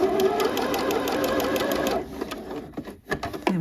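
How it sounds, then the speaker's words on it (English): A sewing machine runs a straight stitch close to the folded edge of luxe pajama fabric, a steady close whir that stops near the two-second mark, followed by a few faint handling clicks. "we're just stitching very close to the folded edge"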